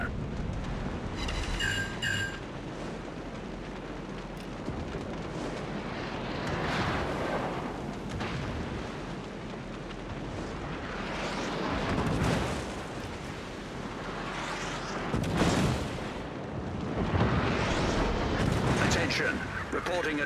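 Naval gunfire and explosions in World of Warships, the Conqueror battleship firing on an enemy cruiser: a continuous dense roar of heavy booms and rumbling blasts, loud and close, swelling in repeated bursts over about twenty seconds.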